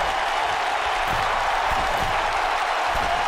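A WWE 2K19 arena crowd cheers through a steel cage triple threat match, a constant dense roar of applause and voices with no break.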